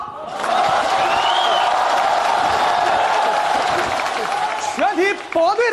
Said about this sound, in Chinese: 队长上场，热烈鼓掌。